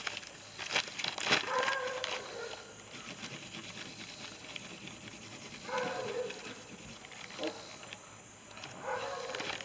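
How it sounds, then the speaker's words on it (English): A glossy magazine page is crumpled by hand during a spray paint art session, giving loud crackling bursts early on and again in the second half, close to the mic, with quieter rustling between. "Crumple a magazine page."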